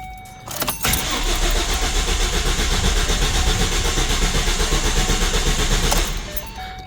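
A twin-turbo Ford Mustang with upgraded GT500 fuel injectors cranks on its starter without fuel pressure, a loud, steady churning for about five seconds that never catches, recorded close up with no talking.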